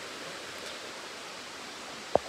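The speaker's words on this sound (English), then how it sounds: "I'm down here at the river" River water flows in a steady, even broadband rush from start to finish, with one brief faint tick near the end and no voices.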